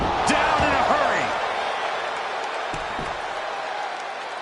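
Arena crowd noise from the WWE 2K25 wrestling video game, a steady roar of cheering with brief bright whoops and impact thuds, loud at first and easing slightly, with a commentator talking over it.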